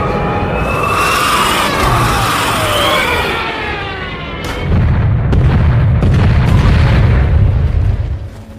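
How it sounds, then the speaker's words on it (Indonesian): A German Stuka dive bomber whines and screams overhead, followed by heavy booming explosions and rumbling blasts from its bombs, loud and close. "kedatangan pesawat bomber Stuka Jerman yang langsung menjatuhkan bom ke arah mereka"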